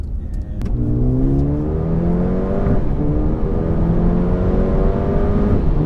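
A Mercedes-AMG A35 car engine pulls hard and loud, its pitch climbing steadily in a sustained rising whine, close and continuous, with no talking.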